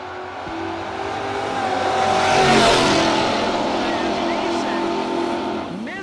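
A Dodge Dart drag car launches and accelerates hard down the strip at a no-box drag racing event, its engine roar swelling to a loud peak then fading away, with an announcer talking over it.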